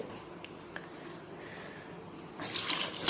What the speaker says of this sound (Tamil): தண்ணி சேர்த்துக்கோங்க.